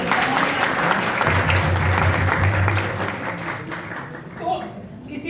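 An audience at a university drama club festival breaks into a burst of applause, many hands clapping under a speaking voice before the applause fades.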